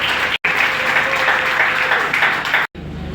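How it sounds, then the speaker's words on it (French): A crowd at a political party event in Congo applauds steadily and loudly, with dense clapping filling the space, briefly cut off twice. "Applaudissons-la encore."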